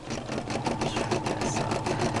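A Brother SE-400 embroidery machine stitches a few small dots, giving a close, loud, fast and even mechanical rattle of needle strokes that runs without pause for about two seconds.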